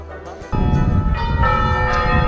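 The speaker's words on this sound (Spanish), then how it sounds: "El sonido de las campanas" Church bells ring out with bright, sustained tones, several strikes overlapping and ringing on, fairly loud and close.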